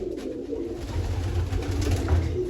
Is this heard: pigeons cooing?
yes